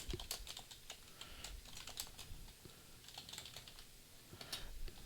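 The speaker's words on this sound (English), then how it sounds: "So we'll type in our root password and go ahead and update this" Someone types a root password into a terminal on a computer keyboard on an Ubuntu Linux system. Rapid, light key clicks come in an irregular stream, close up and fairly quiet, with no voice.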